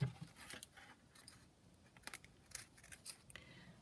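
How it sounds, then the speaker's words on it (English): Scissors snip through paper, cutting the corner off a handmade junk journal tag, a few quick crisp cuts with short pauses between them, close and fairly quiet. "I'm going to cut the other corner off"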